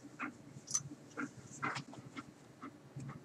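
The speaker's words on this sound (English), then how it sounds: "I just wanted to show you my dog" A pet dog whimpers faintly in a quiet room, giving a few soft, breathy whines and small yelps spaced irregularly, close but low in level with no one talking.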